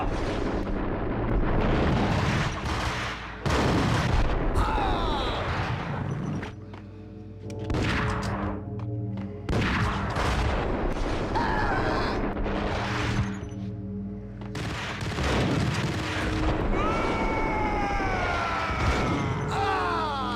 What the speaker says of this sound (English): Oh my god, they're exploding everywhere.